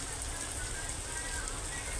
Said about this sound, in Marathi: पाणी टाकून घेतलं